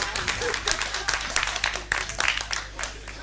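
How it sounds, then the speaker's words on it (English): A live audience at a motivational talk bursts into applause, dense overlapping hand claps filling the room at moderate loudness for a few seconds, with a voice speaking over the start. "Give them a round of applause,"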